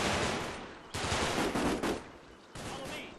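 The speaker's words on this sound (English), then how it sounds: "I've got mortar fire." Mortar fire in the Combat Mission Market Garden war game, heard as a dense run of loud explosive bursts and gunfire-like blasts, with several sharp onsets and no talk over them.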